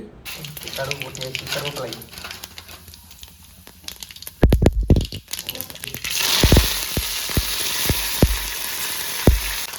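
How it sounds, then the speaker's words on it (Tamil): Mustard seeds and cumin hitting hot oil in a pan, first some quieter clatter and sharp taps, then a loud sustained sizzle with scattered popping crackles, close up. "எண்ணெய் விட்டுட்டு கடுவை போட்டு வைக்கணும் கொஞ்சமாக ஜீரகம் போட்டு"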